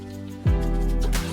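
Water being poured into a jar for fridge pickle brine, a single close glug followed by a steady filling gurgle that rises in pitch, then tapering off.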